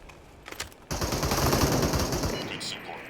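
Sustained automatic gunfire in an online battle-royale shooter game, a dense rapid burst that starts suddenly and runs for a couple of seconds, loud and close after a few faint shots.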